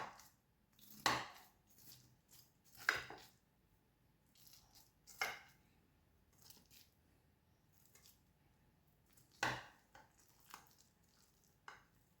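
Knife cutting through a baked rice gratin with a browned cheese top, giving several separate crunchy slicing strokes at close range with quiet pauses between them.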